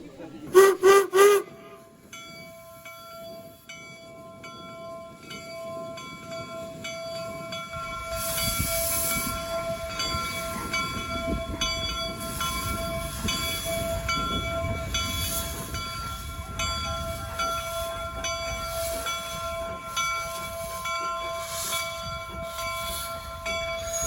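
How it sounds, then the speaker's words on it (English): Historic locomotives at the Golden Spike reenactment sound a few sharp whistle blasts, then a long steady tonal hum from the engine sits over rumbling rail and crowd noise, with faint voices in the background. "the number one reason to come out here is to see the locomotives"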